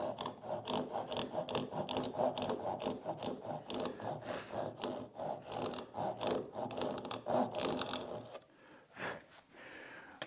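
Pull saw cutting dovetail kerfs in wood, steady rhythmic rasping strokes up close and fairly soft, tapering to a few slower strokes near the end.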